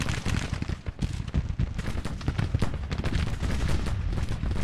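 Dense, continuous musket and artillery fire in a Civil War battle game, rolling volleys crackling close and loud without a pause.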